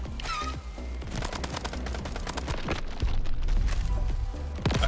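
Hip-fire gunfire in a roguelike shooter video game rattles in rapid, continuous bursts mixed with game effects and music, fairly loud and busy, with no speech.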